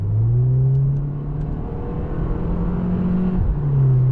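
Car fitted with an aftermarket exhaust revving from inside the cabin, a steady engine drone rising and falling with a short dip before climbing again; any popping stays subtle.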